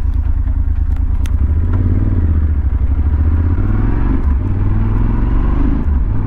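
Motorcycles ride together on the road, a steady loud engine drone and rumble with wind noise throughout and faint clattering.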